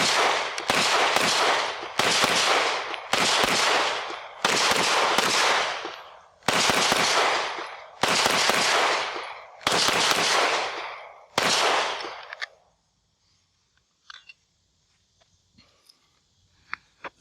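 A Canik Mete SFT pistol emptying a second magazine, about nine loud, close shots at a steady pace, each ringing out before the next, then quiet with a few faint clicks and handling sounds.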